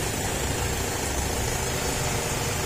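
Idling engine of a vehicle with a battery that will not charge, a steady, continuous low rumble with even vibration held close and alone throughout.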